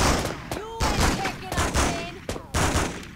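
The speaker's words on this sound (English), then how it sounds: "Hey, someone's shooting over there!" Rapid gunfire bursts from the video game Spider-Man 2, several sharp volleys in quick succession with brief gaps, loud and close, with game voices speaking over the shots.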